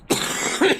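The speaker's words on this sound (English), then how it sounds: "I have kind of an allergy type of cough." A single close cough, a short harsh burst followed by a second rougher push, with no talking around it.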